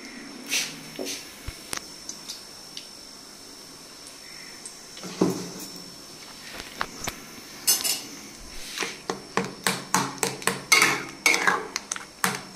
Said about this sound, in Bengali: খালি আদাটা ছেঁচে দেবো